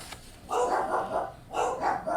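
A dog barks in two close bursts of several quick barks each, fairly loud and near, with no talk over it.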